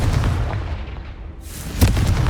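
A Confringo spell from Hogwarts Legacy lands as a deep, booming blast, a rumbling low roar followed by one sharp explosive hit near the end.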